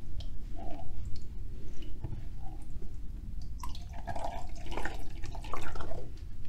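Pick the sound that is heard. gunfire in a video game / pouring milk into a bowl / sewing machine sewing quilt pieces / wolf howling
pouring milk into a bowl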